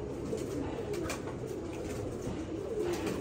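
Young pigeons, offspring of a racing loft pigeon crossed 75% school and 25% Teddy stock, cooing softly and continuously in a loft, with a steady low murmur of coos throughout.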